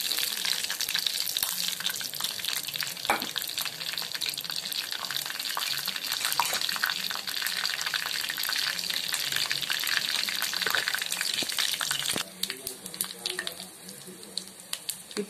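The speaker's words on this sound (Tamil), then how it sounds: "எண்ணெய் சூடானதும் பெருஞ்சீரகம், பட்டை, சாம்பு, மராட்டி மொக்கு, நட்சத்திர சோம்பு, பிரியாணி இலை எல்லாம் போட்டு" Whole spices (fennel, cinnamon, cloves, star anise, bay leaf) sizzle in hot oil for vegetable pulao, a steady bright frying hiss with occasional pops and stirring, close and continuous, fading slightly near the end.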